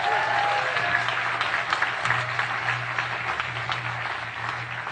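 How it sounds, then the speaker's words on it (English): Live podcast audience applauds steadily throughout, a dense, loud wash of clapping from a large crowd, with a low hum underneath and no speech over it. "Let's give them a round of applause."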